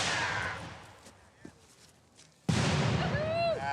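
A Civil War artillery cannon fires with a loud, sudden boom, followed by a long rumbling decay outdoors, after an earlier fading blast; a voice speaks briefly between the shots.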